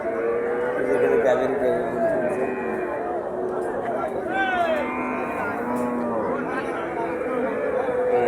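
Cattle and calves at a livestock market in Joypurhat, several moos rising and falling at close to middle distance under steady talk and crowd chatter.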